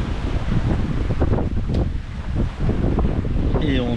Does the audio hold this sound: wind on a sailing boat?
yes